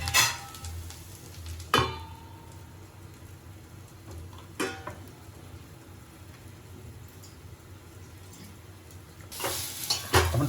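A broccoli mixture for cream of broccoli soup simmers in a covered pot with a soft, steady sizzle, broken by a few sharp clanks of the lid and pot.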